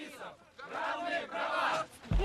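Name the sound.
hostile crowd shouting at gay rights demonstration in Moscow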